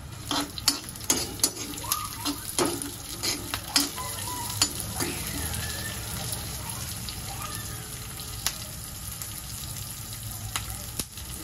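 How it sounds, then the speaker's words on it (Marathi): Green chillies, garlic, ginger, cumin and curry leaves roast in a pan for thecha, with a loud close sizzle and a rapid series of sharp spatula knocks and scrapes, heaviest early, then steadier frying. "इथे ठेचा करण्यासाठी आम्ही मिरच्या घेतल्या, लसूण, आलं, जिरं आणि कढीपत्ता हे सारं मी याच्यामध्ये भाजून घेते।"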